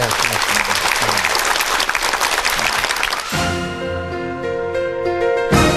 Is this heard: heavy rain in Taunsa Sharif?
no